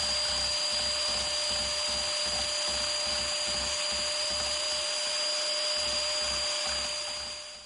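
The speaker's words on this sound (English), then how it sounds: "So this first run, again, I'm just trying to hit rough scraping around that area that has the blue pattern on it." A Biax power scraper works a cast iron 24-inch camelback straight edge, a loud, steady motorized buzz with rapid rhythmic strokes pulsing underneath, close by and continuous until it winds down at the end.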